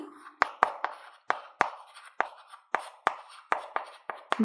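Writing on paper during a maths lesson gives a close series of sharp tapping pen strokes, each followed by a short scratchy drag, at an irregular, fairly quick rhythm.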